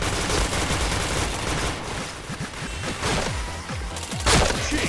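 Rapid gunfire in a shooter video game comes as repeated loud bursts and volleys of automatic shots, close and dense with brief gaps between strings.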